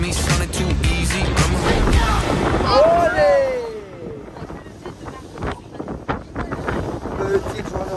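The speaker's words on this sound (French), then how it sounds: "Petite journée en bateau aujourd'hui les gars," Strong gusting wind buffets the microphone during a boat ride at sea off Portugal, with engine and water rush underneath and voices calling out over the din.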